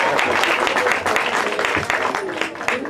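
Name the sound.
audience applause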